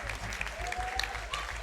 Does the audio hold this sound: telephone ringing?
no